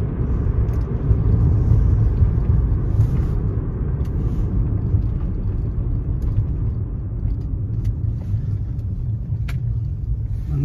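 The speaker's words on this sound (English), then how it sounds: "Nice quick freeway pull here." A Mercedes C36 AMG pulls hard from a rolling start on a freeway, a loud, steady low engine drone with road rumble that holds throughout, no voices over it.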